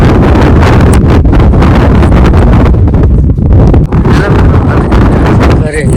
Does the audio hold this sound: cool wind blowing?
yes